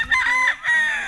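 A rooster crows nearby, a clear drawn-out call in two rising and falling phrases, with no talking.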